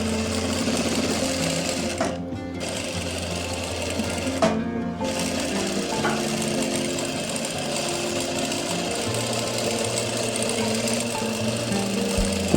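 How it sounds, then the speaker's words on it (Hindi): Sewing machine stitching the seam of a kurti, a continuous close mechanical chatter with rapid rhythmic needle clatter, broken by two short pauses early on before running steadily. "ऐसे ही अब हम दूसरी साइड पे सिलाई लगा देंगे।"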